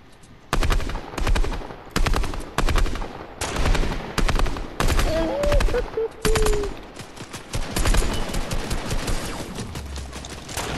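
Repeated loud bursts of automatic gunfire in a video game, rapid rattling volleys separated by short pauses, fading to quieter background noise at the end.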